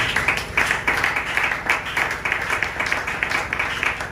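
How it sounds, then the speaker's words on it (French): Church congregation clapping and cheering in praise, a modest scattered burst of applause from only a handful of people, steady through the clip with sharp hand-clap transients. "j'ai entendu les acclamations de quelques 5 personnes"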